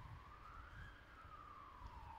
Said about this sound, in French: Ah, l'ambulance.